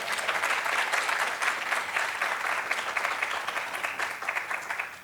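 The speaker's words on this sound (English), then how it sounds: "Maybe another applause for my little brother who flew all the way to support me." Audience applause at a women-in-tech talk, dense steady clapping from a crowd filling the room, continuous and fairly even before tapering slightly at the end.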